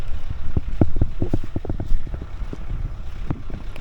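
Hot desert wind blows in the Mojave Desert, buffeting the microphone with loud, continuous rumbling gusts and no voices.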